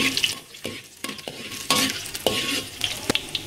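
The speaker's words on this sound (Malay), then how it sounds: "Lepas tu kita goreng bawang putih masuk sikit." Garlic sizzles and crackles in hot oil while a utensil repeatedly scrapes and stirs against the pan, close and continuous.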